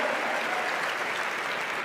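Dense crowd applause at a Democratic National Convention speech, a steady, loud wash of many hands clapping with no breaks.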